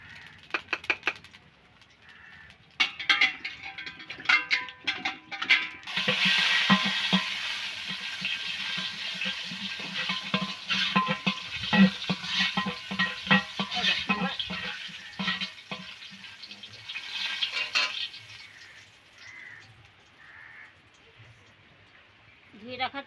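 Bay leaves, dried chillies and cumin sizzle in hot mustard oil in a home kitchen, a steady frying hiss rising after a few seconds with stirring clinks, while a voice talks over it.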